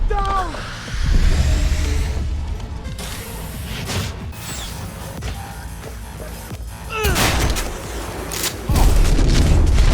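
Gunfire rattles through Cyberpunk 2077 combat, repeated loud shots and booms mixed with mechanical clanks and whooshes, dense and close throughout.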